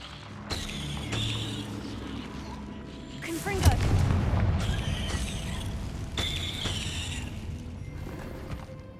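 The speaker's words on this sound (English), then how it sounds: "Confringo." In Hogwarts Legacy, a Confringo spell bursts in a fiery explosion, a rumbling blast mid-clip over ongoing game sounds and mechanical clatter.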